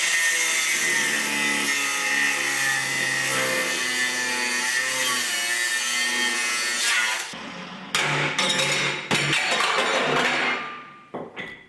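An angle grinder cuts into the metal gear stick mount of a turbocharged four-wheel-drive Austin Mini, a loud, steady whine held for about seven seconds, then broken into short stop-start bursts before dying away.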